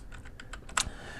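Quick keystrokes on a computer keyboard, a short run of light taps ending in one sharper key press, close and quiet with no talking.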